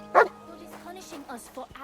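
A dog in the medieval role-playing game Kingdom Come: Deliverance 2 gives one short, loud bark, followed by other faint game sounds and murmuring.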